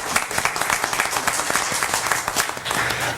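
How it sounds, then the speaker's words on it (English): Audience applause at a Boynton Beach city commission meeting, a steady patter of clapping from a room of people, fairly close and continuous throughout. "You may applaud again."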